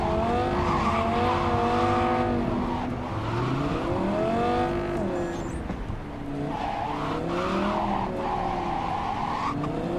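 Car driving and skidding in Cyberpunk 2077, a steady loud engine drone with swooping tire squeals rising and falling throughout, no talk.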